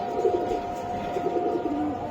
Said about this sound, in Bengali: এই যে আরেকটা কবুতর ভাই